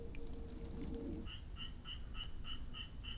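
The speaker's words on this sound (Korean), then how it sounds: "청개구리 소리 같은데?" A tree frog calls in a quick, evenly spaced series of short croaking notes, moderately near, beside a mountain pond in spring, against a quiet outdoor background with faint low rumble.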